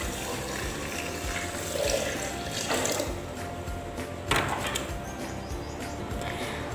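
Water pours steadily into a blender with a continuous rushing splash that swells briefly now and then, close by and fairly loud.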